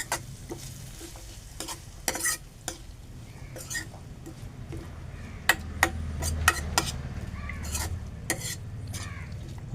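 Onions fry with turmeric in a pan, giving a low continuous sizzle under repeated clanks and scrapes of a utensil against the metal, in irregular bursts that grow denser toward the end, with no talking.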